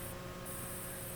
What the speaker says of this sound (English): we're going to start spraying